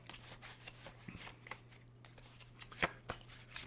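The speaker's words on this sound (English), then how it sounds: "I shuffle through the cards until one card falls out" A deck of playing cards is shuffled by hand at close range, soft riffling and flicking with a few sharper snaps, quiet and alone over a faint steady hum.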